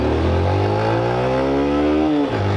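A Honda CG 160 motorcycle revs hard in first gear with a loud, steadily rising engine whine. Near the end the pitch drops sharply as the gear changes, and no one speaks over it.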